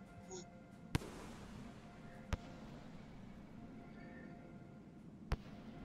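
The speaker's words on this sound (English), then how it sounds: "I did not mean to throw the bomb." A bomb goes off in the video game Rain World: Downpour as a sharp, sudden bang, followed by two more isolated cracks over a low, steady ambient hum.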